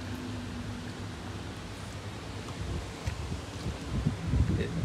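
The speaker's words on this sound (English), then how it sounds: "It is a super windy day." Strong wind buffets the microphone on a marina dock in San Diego, a steady rushing roar that swells and gusts harder toward the end, with no talk.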